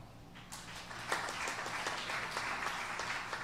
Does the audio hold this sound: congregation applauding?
yes